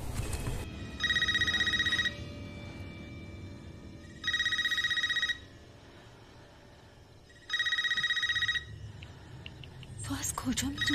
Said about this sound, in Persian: تو از کجا میدونی تلفن خونه داره زنگ میخوره؟